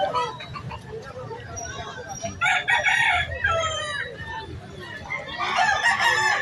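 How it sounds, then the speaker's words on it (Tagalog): Fighting roosters for sale at a pet market crow loudly and repeatedly, some near and some farther off, with clucking fowl and a busy crowd murmuring underneath. "Yan, bintahan ng mga manok panabong."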